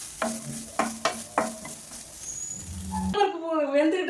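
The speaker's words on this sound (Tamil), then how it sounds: "லைட்டாக செவக்கிற அளவுக்கு தேங்காயை வதக்கிக்கலாங்க" Coconut sautés lightly in a pan, soft sizzling with a few sharp spoon knocks early on, then a burst of louder mixed sound near the end, all fairly quiet and close.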